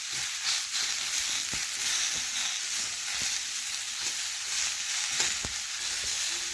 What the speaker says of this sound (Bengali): এখন খুরপি দিয়ে ভালোভাবে এইভাবে নাড়াচাড়া করতে করতে পটল ভেজে নেব